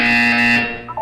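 A loud, harsh electronic buzzer from the video game Portal 2 sounds in a single sustained tone, then cuts off abruptly into a brief quieter electronic tail.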